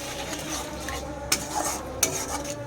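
A spoon stirs yogurt into a cooking dish in a pan, with soft scraping and a couple of sharp metal clinks against the pan over a low, steady background.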